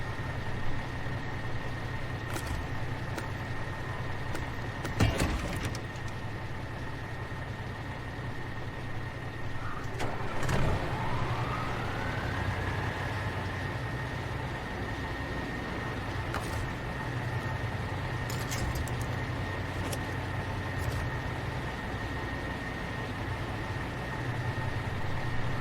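A truck engine in the off-road driving game SnowRunner, set in the Imandra region, idles with a steady low hum for the whole stretch, with a few clunks and a rising tonal whine as it revs and settles.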